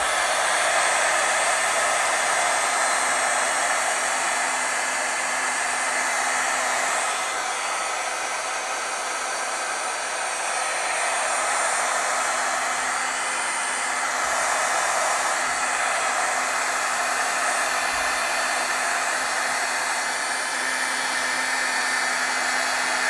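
Heat tool blowing continuously while heat setting stamped ink, a steady loud whooshing hum with a slight whine, unbroken throughout.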